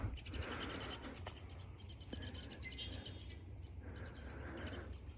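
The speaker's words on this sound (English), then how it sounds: "You hear them red-winged blackbirds." Faint red-winged blackbirds call and chirp at a distance in a marsh over a low background rumble, with scattered short trills repeating throughout.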